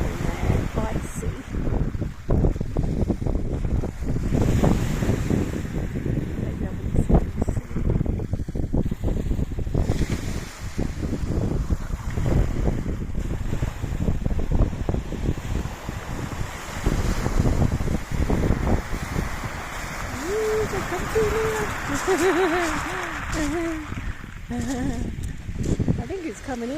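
Sea waves wash onto a cold, windy, stony beach under heavy wind buffeting the microphone, a continuous rough roar with a person speaking over it.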